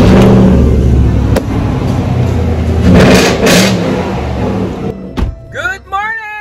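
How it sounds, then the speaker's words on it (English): A V8 engine roars loudly and close, revving up and down in surges, then drops away at the end as a voice comes in. "This is the sound of a V8 engine."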